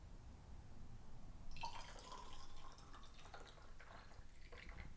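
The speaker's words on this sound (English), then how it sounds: "Okay, so we pour our lemonade." Lemonade poured into butterfly pea tea in a glass, a faint liquid trickle and splashing that swells briefly in the middle and trails off into soft drips, quiet against a low background hum.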